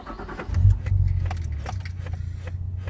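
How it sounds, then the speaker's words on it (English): A Nissan Skyline R33 GTS-T engine cranks and catches with a loud low surge, then settles into a steady idle rumble, with light keys jangling and cabin clicks alongside. "So we hop in the car, switch the engine on"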